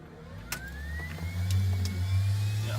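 A twin-engine Beechcraft King Air turboprop begins its left engine start on the ground, a rising whine that climbs steadily under a low droning hum, with a few sharp clicks along the way.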